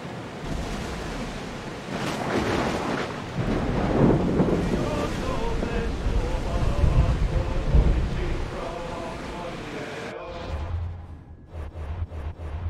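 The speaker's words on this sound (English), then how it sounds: "That storm looks nasty." Storm at sea around a sailing vessel: loud, steady roar of wind and crashing surf with deep low rumbles throughout. The roar drops abruptly near the end, leaving thinner wind and water noise.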